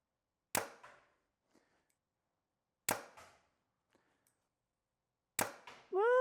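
Three arrows loosed from a bow at an archery target, each a sharp, loud snap and thud with a quick decaying ring, spaced about two and a half seconds apart, with a faint tone rising right after the last.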